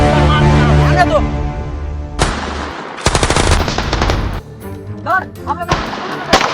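Gunfire in a Hindi comedy sketch about terrorists facing the army: rapid machine-gun bursts rattle alongside music and shouted voices, with short volleys that stop and start across the scene.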